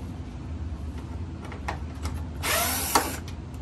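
A T20 Torx driver, apparently powered, whirs in short bursts while backing out the control panel screws on a Miele T9820 gas dryer, a thin whine with a louder stretch near the end.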